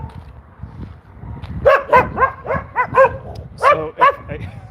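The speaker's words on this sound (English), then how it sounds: "Very loud barking. I'm being all barked." Several street dogs bark loudly and close, a rapid burst of repeated barks after a quieter opening, with some overlapping yips.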